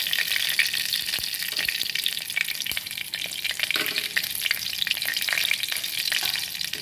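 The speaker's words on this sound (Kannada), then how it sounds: "ಒಂದು ಸಣ್ಣ ಸ್ಪೂನ್ ಕಡಲೆಬೇಳೆ ಸಣ್ಣ ಸ್ಪೂನಲ್ಲಿ ಉದ್ದಿನಬೇಳೆನ ತೊಗೊಂಡಿದ್ದೀನಿ ಇದೊಂದು ಸ್ವಲ್ಪ ಫ್ರೈ ಆಗಬೇಕು" Chana dal and urad dal frying in oil in a pan: a continuous crackling sizzle with scattered pops and occasional stirring scrapes, close and steady throughout.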